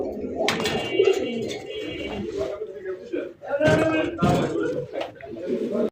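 Rajgolla pigeons coo in soft, low bursts close by, while someone talks over them throughout.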